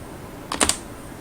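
Typing text on a computer keyboard while building a web page, a short burst of three or four close, sharp key clicks in quick succession over faint room hiss, no talking.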